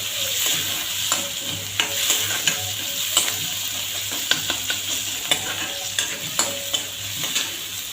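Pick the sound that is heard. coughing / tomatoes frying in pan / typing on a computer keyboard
tomatoes frying in pan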